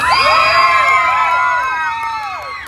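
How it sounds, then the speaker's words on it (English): A crowd at a car show pin-up contest cheers for contestant number 1 with loud, high whoops and shouted cheers layered over one another, bright and close, easing off slightly toward the end. "Contestant number 1, give us that round of applause"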